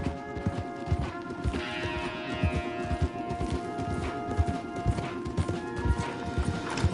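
Horse hooves clip-clopping steadily in Red Dead Redemption 2, several horses moving at a brisk rhythmic pace through trees, with an occasional whinny and background game ambience.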